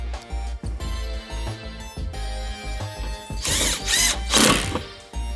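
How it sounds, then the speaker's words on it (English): A power driver runs screws into a gloss black body kit panel on a BMW X5 G05 LCI. Loud, close whirring bursts start and stop, with the strongest run near the end. "then you can go ahead and put the first screw in"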